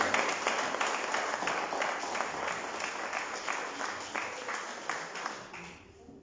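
A church congregation claps along during a sermon, producing steady rhythmic applause with regular beats from many hands that fades toward the end.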